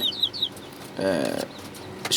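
Chickens in a small coop cluck and squawk nearby in short bursts, with a brief scratchy flurry, over a quiet background.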